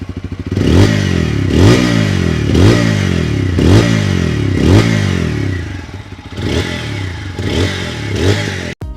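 A TVS Apache RTR 160 4V motorcycle engine is running close up, loud and steady, with regular pulsing throbs and clattery rises roughly every second, then cuts off abruptly at the end.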